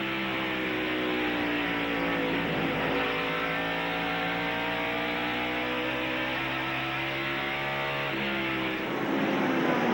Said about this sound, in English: Brett Bodine, there he is in third, as Dick Trickle and Bill Elliott battle side by side.